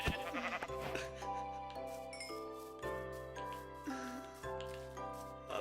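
Sheep in Minecraft bleat several times in a row, close and clear, over a soft game backdrop with light tinkling.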